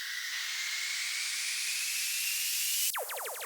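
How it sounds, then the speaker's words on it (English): Uplifter riser effect in an electronic music build-up: a loud, steady rising noise sweep with a climbing tone runs for about three seconds, then cuts into a few quick descending tonal blips. "And in the build up some uplifters."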